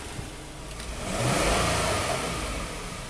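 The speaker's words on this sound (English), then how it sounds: "We rev it up once, and we'll shut it down." A misfiring Hyundai car with a hard-start fault and raw-fuel smell gets a single rev: a medium engine swells up, holds briefly and eases back down, rough and close with no talking.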